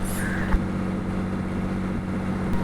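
A government-owned passenger ferry on the backwaters of Kochi drones with a steady low engine hum and a constant wash of noise, with a couple of faint knocks.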